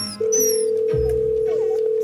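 A telephone handset lets out a steady dial tone that holds for almost two seconds, with a brief clunk of the receiver being lifted partway through.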